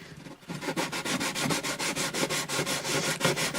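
An acoustic guitar bridge on an Alvarez Artist AD65 is sanded by hand with 500 grit sandpaper, a close, even rasping rhythm of quick back-and-forth strokes.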